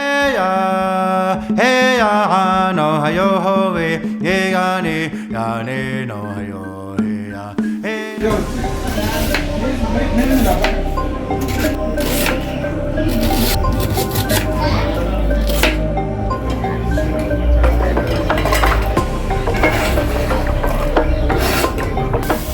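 Onions are grated by hand, a fast, rhythmic rasping scrape that runs close and loud for a long stretch after an opening of music, with steady strokes and no talk.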